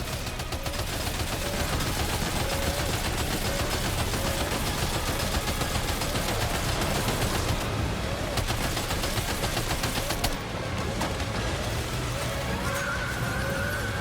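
Sustained gunfire in the video game Death Stranding 2, a dense continuous crackle of rapid shots that runs unbroken throughout, loud and close amid battle noise.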